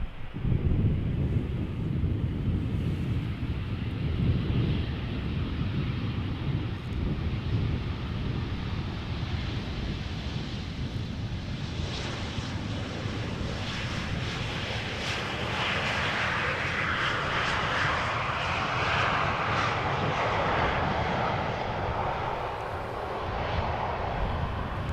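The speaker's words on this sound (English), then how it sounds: "KLM Embraer 190 arriving from Luxembourg." A KLM Embraer 190 arriving at Amsterdam Schiphol Airport, its engine roar building into a loud, broad rumble with steady wind noise on the microphone, with no voices.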